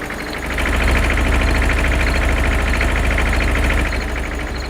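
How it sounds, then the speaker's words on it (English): A loud tractor engine in the farming game Farming Simulator 2013 drones steadily, swelling slightly early on and holding a constant rumbling tone throughout, with no talking. "that tractor's loud"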